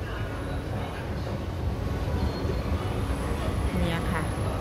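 Ambience inside Bang Sue station on the MRT Red Line in Bangkok: a steady rumble of trains and crowd noise, with a faint high tone and people talking nearby.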